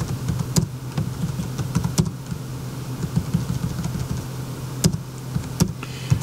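Typing on a computer keyboard: irregular sharp key clicks tapping in quick bursts over a steady low hum, fairly close and moderately quiet.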